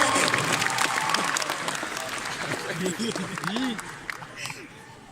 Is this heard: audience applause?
yes